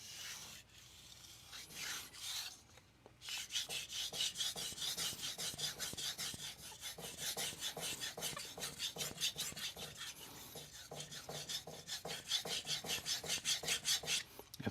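Nakamura 150mm santoku knife in Shirogami 2 steel sharpened on a King 300 whetstone, a quiet, close, rhythmic rasping of steady back-and-forth strokes after a short pause near the start.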